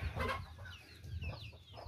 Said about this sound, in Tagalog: magpakain na din si Junjun mamaya sa mga alagang manok